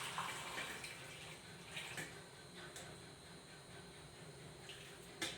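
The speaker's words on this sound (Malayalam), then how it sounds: "നിരക്ക വെള്ളം ഒഴിക്കണം." Water is poured into a cooking pot, a soft, fairly faint splashing and trickling that runs steadily throughout with a few slightly sharper splashes.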